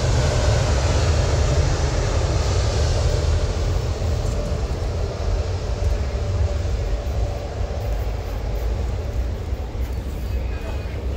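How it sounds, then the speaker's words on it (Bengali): A passenger plane rolls along the runway, heard from just outside the airport fence as a loud, steady engine roar and rumble that holds evenly throughout. "এই যে রান করছে বিমানটি"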